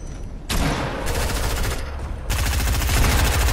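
Burst rifle fire in a Fortnite Battle Royale match, loud rapid volleys that start abruptly after a brief quieter moment, pause, then resume in dense continuous bursts.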